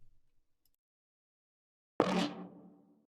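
A single punchy psytrance percussive one-shot strikes after a stretch of near silence, bursting bright and loud before a short ringing tail fades out over about a second.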